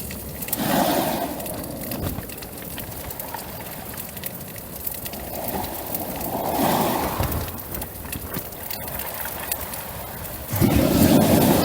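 Wind blowing outdoors at a club competition, surging in gusts that buffet the microphone with rough rumbles, easing between swells and rising strongly again at the end, with no talking.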